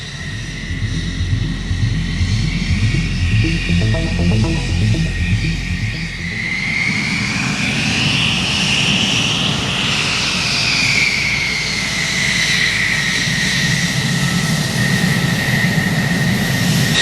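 Turkish Air Force F-16 fighter jets taxi past during an air exercise, giving a loud, close, continuous engine roar with a rising and falling high-pitched whine as they pass. No voices are heard.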